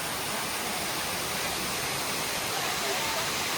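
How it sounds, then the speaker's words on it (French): Waterfall on a Malaysian island, a steady full-band roar of falling water close by, constant and loud with no breaks for the whole stretch. "Regardez, on est arrivé sur la cascade."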